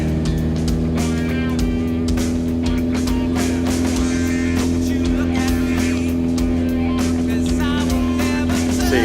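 A motorcycle engine runs on a dyno, a loud, steady, humming drone at constant revs with a strong low tone throughout, close and unbroken.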